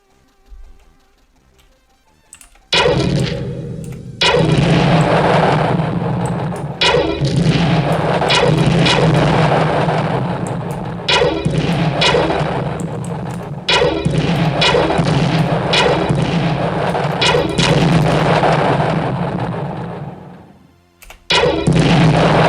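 Explosion sound effects from a Python pyGame game play back loud and dense as a long run of overlapping booms and crackling blasts, with short pauses between bursts.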